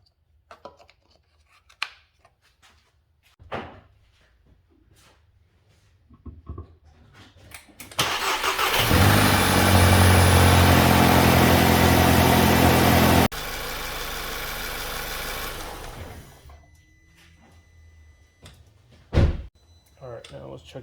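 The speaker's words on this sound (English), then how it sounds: "Let's start the car and let it run for a little bit." A 2012 VW Passat CC 2.0 TSI turbo engine cranks and catches after some clicks and handling noises, revs loud briefly, then settles into a steady idle before fading. It is heard up close.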